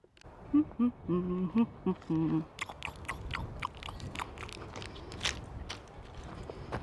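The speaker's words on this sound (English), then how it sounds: "Listen to that. The crunch of it." Dry brittle desert vegetation crunches underfoot in a steady series of crisp crackles, close by, following a few brief low tonal sounds at the start.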